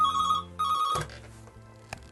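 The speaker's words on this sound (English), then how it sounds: "And then when the phone rings, I just want to grab it quick." A telephone rings with two bright electronic trills before being picked up, heard close in a quiet room, followed by a clunk of handling.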